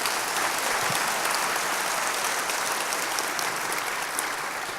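Steady, dense applause from a church congregation at an evening Bible study, sustained evenly for several seconds and fading slightly at the end, with no speech over it.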